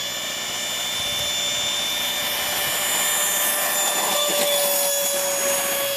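Astras T45 Goshawk model jet on its maiden flight, a steady loud broadband whine and rush that holds for several seconds and swells slightly toward the end, with no voices.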